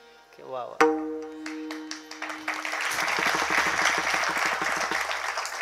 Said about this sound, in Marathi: एकच वाक्य बोललो टाळ्या झाला